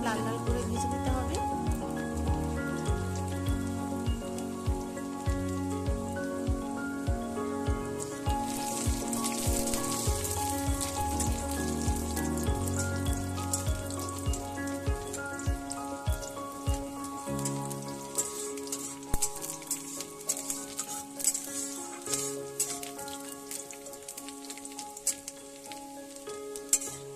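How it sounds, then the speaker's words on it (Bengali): Garlic frying in hot oil, a steady close sizzle and crackle running continuously beneath sustained background music. "তেল গরম হয়ে গেছে, এবার রসুনটা দিয়ে দিলাম। রসুনটা খুব ভালো করে ভেজে নিতে হবে,"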